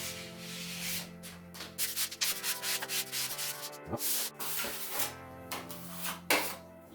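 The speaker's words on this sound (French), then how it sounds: "je prends ma bande, donc je la préplie" Drywall joint tape being pre-folded by hand for an inside corner, giving a run of close, papery rubbing and crinkling scrapes with sharp creasing snaps, over a steady low background hum.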